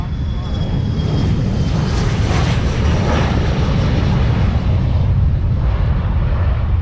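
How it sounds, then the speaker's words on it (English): A jet plane takes off at the Farnborough Airshow, a loud, steady roar of engine noise with broadband rumble sustained throughout, close and continuous without fading. "And we have a plane taking off."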